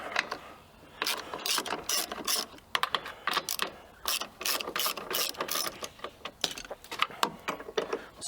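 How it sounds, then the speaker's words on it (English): Ratchet breaking loose and spinning out the 10mm retaining nuts on a 1999-2007 Silverado 2500HD tow mirror: rapid, close clicking bursts in uneven runs and pauses, with no talking. "Now we're gonna undo the 3 10mm retaining nuts."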